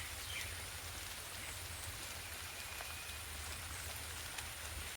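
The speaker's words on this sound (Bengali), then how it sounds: "বৃষ্টি হচ্ছে" Rain falls outdoors as a soft, steady patter with a faint hiss, even and unbroken throughout.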